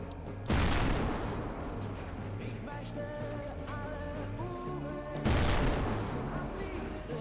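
Tank cannon shots in Garry's Mod, with ACF tanks firing and rounds ricocheting off thick side armor: two loud, booming blasts several seconds apart, each trailing into a ringing, rumbling decay.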